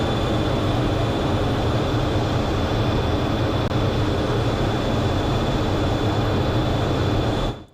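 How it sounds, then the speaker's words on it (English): Steady, loud broadband engine roar of a small plane's takeoff roll on a clear morning, constant and close throughout before cutting off abruptly at the end. "this is going to be the full, raw, unedited, until the camera dies footage of that takeoff roll"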